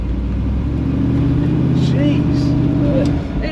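An LS V8-swapped Bowler Wildcat accelerating hard while spinning all four wheels, a loud, steady engine roar heard from on board with people talking over it.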